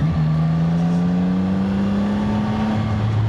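A CF Moto 675 SR-R motorcycle being ridden, its engine holding a steady hum that climbs slowly in pitch, then shifts down near the end, heard close and alone without voices.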